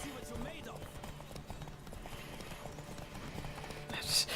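Horse hooves clip-clop in a steady galloping rhythm during a race in The Witcher 3, mixed with game music and ambience, with a louder rustle near the end and someone talking over it.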